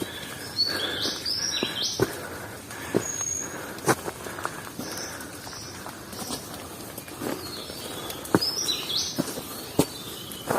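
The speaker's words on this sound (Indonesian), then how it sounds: "Banyak sekali terdengar suara burung-burung yang sangat indah." Birds chirp and sing in short bursts around the listener on a mountain trail on Mount Slamet, over a steady background of rustling and occasional footsteps or taps.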